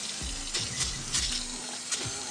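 Brake cleaner hisses as it is sprayed onto spilled oil under a 2018 Honda HRV during an oil change, a steady close spray with a few short pulses and no talking.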